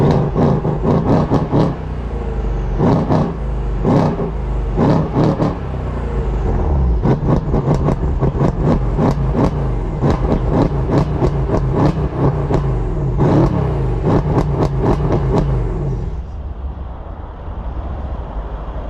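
A tuned Mercedes E63S AMG at Stage 2 drives along, its engine droning loud and close from inside the car with repeated pulsing surges, easing off at the end.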